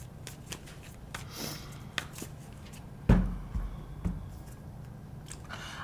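A deck of tarot cards is shuffled quietly, with soft riffling and a few light taps and clicks as the cards settle, heard alone and fairly faint.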